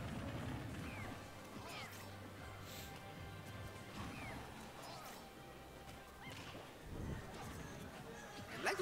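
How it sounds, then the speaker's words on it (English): Diddy Kong's smash attacks in a Super Smash Bros tournament match crack and thump repeatedly amid busy game effects, with commentators talking over them throughout and a few sharper hits near the end. "Blacktwins throwing all of those smashes."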